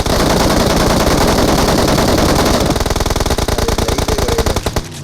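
Gunfire in PUBG on the Miramar map, with long loud bursts of rapid automatic fire hammering steadily up close before stopping abruptly at the end.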